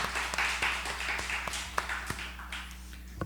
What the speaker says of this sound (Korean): 다시 한번 박수로 격려합니다